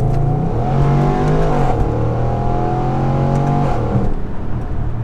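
A 2016 Overfinch Range Rover SVR revving hard under acceleration, loud close engine and exhaust roar climbing in pitch, dipping with gear changes and rising again, with rasps and crackles; no talking.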